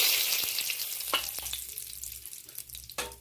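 Whole cumin seeds and a torn bay leaf sizzling and crackling in hot oil in a pan, a steady frying hiss broken by sharp pops and the scrape of stirring, heard close with no talk.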